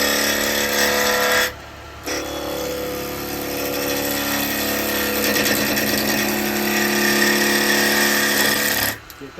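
Wood lathe spinning a wet eucalyptus bowl under light cuts, giving a loud, steady whirring drone with rough cutting noise layered on top, a short break near the start, and then a long continuous run.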